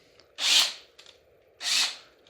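A Makita power tool with a suspected internal rattle runs in two brief bursts, each a close, harsh whir that cuts off between them, with no talking.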